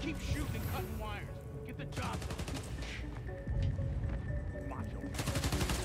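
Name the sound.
gunfire in the video game Spider-Man: Miles Morales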